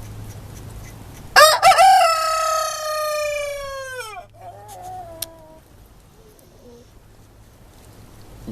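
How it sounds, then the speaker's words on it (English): Rooster crowing once nearby, a loud drawn-out harmonic call that tails off, followed by a softer short cluck, then quiet background. "Say hello to Chicken Leg."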